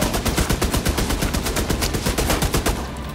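Turret gunfire in the video game The Division 2, Warlords of New York: a loud, rapid, evenly spaced automatic burst of shots hammering on without pause and easing off only at the very end.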